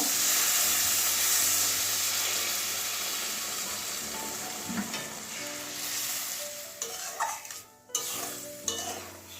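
Water poured into hot, well-fried masala for a fish-roe curry, a loud burst of steamy sizzle that gradually fades, followed by pot and utensil clinks and a few sharp knocks, no talking.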